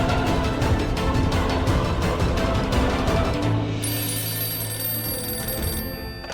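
A telephone rings in rapid, rattling bursts, then gives way to a steady high electronic tone; no one speaks.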